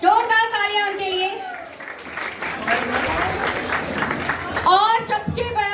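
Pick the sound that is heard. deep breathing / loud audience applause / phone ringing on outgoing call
loud audience applause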